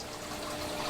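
Aquarium filter draining water in an axolotl tank, a steady rushing, gushing flow that holds level and continuous throughout, with no voices.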